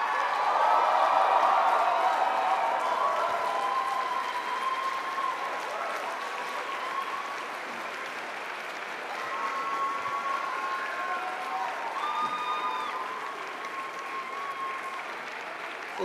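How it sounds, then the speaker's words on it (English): Sustained audience applause at a student television awards ceremony, a dense roar of clapping with scattered cheers and whoops, a few voices and whistle-like tones rising above the crowd throughout. "I think there's two people we haven't really given a real rousing applause to"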